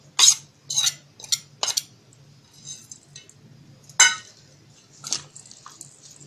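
Onion and spices being mixed by hand for kanda bhaji: intermittent close clinks and squishy rustles against a bowl, in short separate bursts with quiet gaps between.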